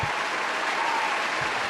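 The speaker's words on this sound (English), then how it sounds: "And the crowd won't stop cheering." A crowd cheers and applauds in a steady, dense wash of clapping and shouting that fills the whole moment, with no clear talk over it.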